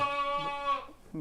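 Hissar sheep with lambs at a livestock market, a long wavering bleat followed by a shorter one, close by.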